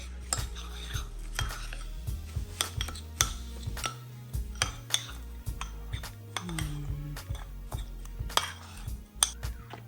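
Spoon stirring a salt-and-pepper seasoned mixture in a pot, giving repeated clinks and scrapes of utensil against cookware in an uneven rhythm, close and fairly quiet with no talking.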